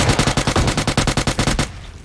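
Rapid automatic gunfire from PUBG Lite, a dense burst of about fifteen evenly spaced loud shots over a second and a half, then an abrupt stop into a faint tail.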